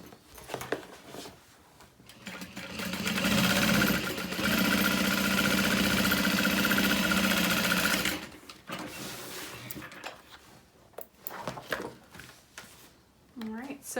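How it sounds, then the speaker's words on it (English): Stitching along the bottom of a handbag, a sewing machine whirs in a loud, sustained burst of several seconds, preceded and followed by quieter handling noises and a voice talking. "I'm going to stitch along the bottom."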